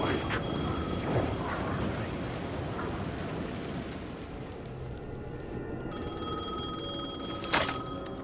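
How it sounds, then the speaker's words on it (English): A telephone rings in the video game Alan Wake 2. It is a faint, repeating ring heard under steady rain and a dense ambient wash. "The phone was ringing again."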